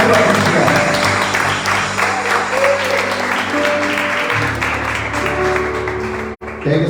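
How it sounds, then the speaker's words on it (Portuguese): A church congregation claps during a worship service, a full, sustained round of applause over lingering organ or keyboard tones, with a voice briefly heard and a sudden dip near the end. "Aplauda o Senhor."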